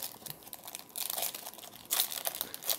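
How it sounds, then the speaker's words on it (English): Crinkling foil wrappers as 2017-2018 NBA Hoops trading card packs are torn open, with soft rustling and sharper crackling bursts that swell near the end, close and alone without talk. "So we're going to be opening up all these packs."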